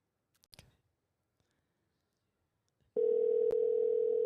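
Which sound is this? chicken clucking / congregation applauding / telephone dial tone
telephone dial tone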